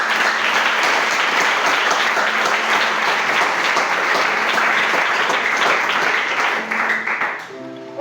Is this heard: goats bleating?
no